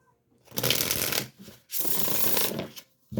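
A tarot card deck is shuffled in two long riffling bursts, each about a second, close and crisp with a short pause between them.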